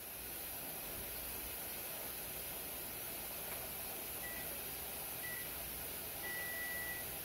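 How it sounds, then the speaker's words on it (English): A pressure canner full of tomatoes on the stove hisses with a steady, broad rush of steam that never lets up, joined by a few faint short beeps near the end. "You can hear it's boiling pretty good in there."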